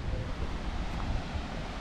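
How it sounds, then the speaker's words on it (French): Steady broadband rush of a waterfall in the Norwegian outdoors, continuous and fairly loud throughout with no voices. "Là-haut, il y a une cascade juste magnifique."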